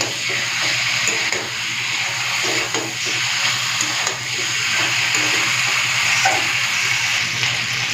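Water pours into a pot of chicken curry cooking on a stove, a steady rushing hiss blending with sizzling, loud and continuous, with no one speaking.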